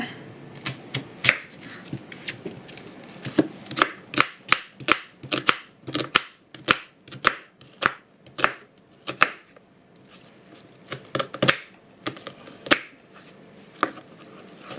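A knife chops an onion steadily on a cutting board, sharp repeated taps in quick bursts with short pauses, close and crisp with no talking.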